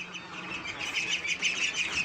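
Several white Pekin and black ducks quack and squawk together in a busy, fairly faint chorus, with no talking.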